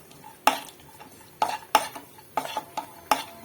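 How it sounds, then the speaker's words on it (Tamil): Cashew nuts roasting in a pan while being stirred, with a series of sharp close clinks and scrapes of a metal spoon against the pan over a faint background sizzle, and no talking. "நம்ம முந்திரி பருப்பு போட்டுக்கலாம். இதை நல்லா வறுத்து எடுத்துப்போம்."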